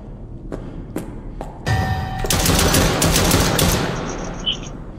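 Gunfire in the video game Chuxie: a few separate sharp shots, then a dense rapid burst of automatic fire with ringing, close and loud, with game sounds trailing off at the end.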